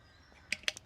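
Crows cawing outdoors in the United Kingdom, three short harsh calls in quick succession, fairly faint against quiet background.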